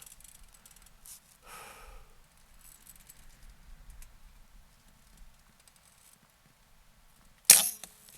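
A single sharp shot from a Benjamin Gunnar .25 air rifle at an outdoor range cracks loudly near the end, after several seconds of quiet breathing and faint handling sounds.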